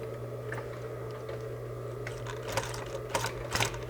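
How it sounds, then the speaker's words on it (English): Sewing machine top stitching fabric half an inch from the edge: a steady motor whir with rhythmic needle ticking, followed by several sharper clacks near the end, close and moderately quiet. "we're actually going to top stitch this 1/2 inch down"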